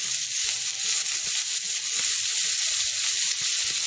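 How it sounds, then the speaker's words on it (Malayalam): Chopped onions and crushed ginger sizzle in ghee with a bright, even hiss, dotted with soft clicks of stirring. "അതിലേക്ക് ഇഞ്ചി ചതച്ചത് ചേർത്തു. പിന്നെ നമ്മുടെ സവാളയാണ് ചേർക്കുന്നത്."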